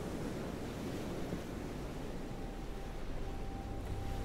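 Soft, steady surf washes continuously on a shore, a gentle broadband rush with no voices.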